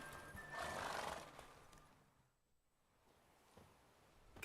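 Roach, Geralt's horse in The Witcher 3, gives a loud, close neigh and whinny near the start, followed by quieter hoof clip-clops as it settles, with no talk.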